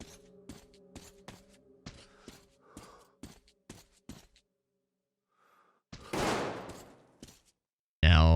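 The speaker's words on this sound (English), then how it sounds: "Now that sounded like a gunshot." Gunfire from the video game Metro Exodus: a burst of sharp, evenly spaced shots over a low droning tone, then a pause, a long noisy blast, and a loud abrupt hit right at the end.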